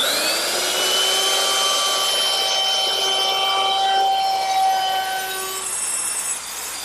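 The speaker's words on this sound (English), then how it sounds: "rounded over the top edge of my armrest using my router" A steady high-pitched router whine with a grinding, cutting edge as it rounds over the edge of a wooden Adirondack chair armrest, running continuously and close by, tapering off near the end.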